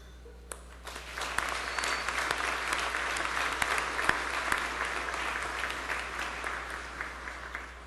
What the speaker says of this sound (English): give a round of applause to everyone else here in the audience